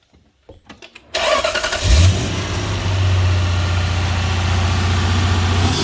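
A Lexus LS400 with a 1UZ VVT-i V8 starts from dead cold: a few quick starter cranks, then the engine catches with a loud flare of revs and settles into a steady, slightly high idle.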